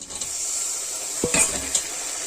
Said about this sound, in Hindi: प्याज को हमें हल्का सा भूनना है इसके अंदर बस। अब हम डालेंगे इसमें टमाटर।